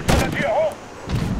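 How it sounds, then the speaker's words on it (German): Mortar fire in the Medal of Honor video game: a sharp close blast with a ringing tail, then a whistling descending tone and a second softer impact a second later, loud against the game's background. "Mörserbeschuss."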